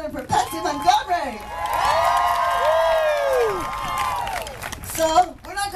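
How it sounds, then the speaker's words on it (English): Crowd at a women's march rally in Fresno, California, cheering and whooping with scattered clapping, rising after a voice over a loudspeaker and swelling into sustained shouts before the speaker resumes. "And a big applause for Planned Parenthood and for Patsy Montgomery."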